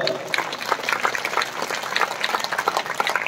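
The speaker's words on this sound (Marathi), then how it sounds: "जोरदार टाळे म्हटल्यावर जोरदार टाळ्या पाहिजेत ना" Audience clapping at a prize distribution ceremony, a dense steady patter of many hands with a few louder claps, with speech mixed in.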